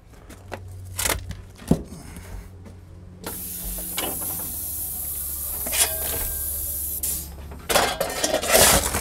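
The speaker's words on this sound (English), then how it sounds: "we're going to go ahead and start adding a few scoopfuls of coal" Coal being shoveled into a steam locomotive firebox: several scraping, clanking scoops at irregular intervals, with a steady hiss of steam and a low rumble behind them.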